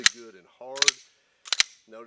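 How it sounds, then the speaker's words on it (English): The slide of a Nighthawk Custom handgun is racked hard in close succession, giving sharp metallic clacks in pairs separated by brief gaps, with a voice speaking between the racks. "he would actually rack that slide about 3 times really good and hard"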